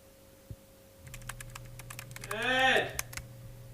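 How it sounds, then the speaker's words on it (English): Typing on a computer keyboard late at night, heard as a run of quick close clicks with a low steady hum underneath and a brief louder swell near the end. "Are you typing?"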